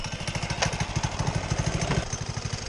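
Gas engine swapped into a Power Wheels Mustang pops with a rapid, even chugging beat while the kid-size car rides a wheelie. The engine sits close and loud and runs steadily, with no talk over it.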